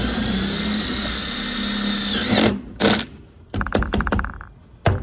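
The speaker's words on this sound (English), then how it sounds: "So I drill into the hardy back, concrete board, in reverse." A power drill running in reverse bores through cement backer board toward a stud while an outdoor kitchen island is built. A loud, steady motor whine stops abruptly, then short bursts and knocks follow, up close with no voices.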